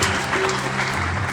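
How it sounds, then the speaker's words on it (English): A crowd applauding steadily at a Hindu temple Navratri service, a dense wash of clapping at moderate volume with a faint low hum underneath. "Let's give Uncle Vishnu a lovely round of applause."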